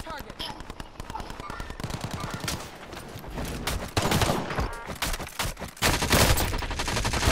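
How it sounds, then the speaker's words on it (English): Gunfire in the video game Call of Duty Warzone on Rebirth Island, with continuous rapid automatic bursts and shots, loud and dense throughout. "Oh, they're shooting at Packer from beach."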